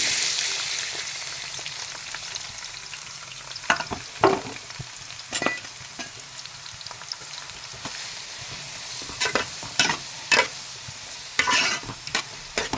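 Green chillies and onions fry in hot oil in a pan for a fish curry, giving a steady soft sizzle broken by sharp scraping stirs and clinks, close by with no talk.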